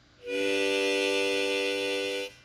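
One long drawn harmonica chord, inhaled, held steadily for two seconds, bright and reedy, nearby with no talking.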